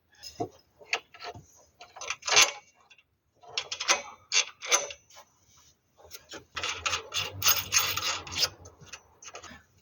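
A washer from a brake hose on a Hillman Superminx is rubbed clean by hand in short, uneven bursts of close scraping and rasping, with brief pauses between strokes and no talking.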